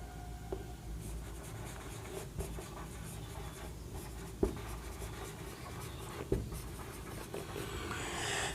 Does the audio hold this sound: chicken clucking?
no